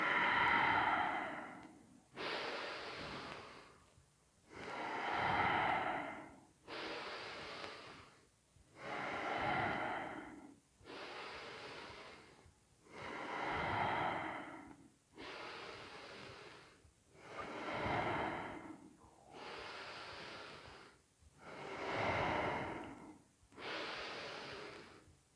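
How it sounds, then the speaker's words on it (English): Deep, slow yoga breathing during an energizing class, with about a dozen even cycles of audible inhales and exhales close to the microphone, each rising and falling in a steady rhythm with no speech. "So take your 2 breaths here."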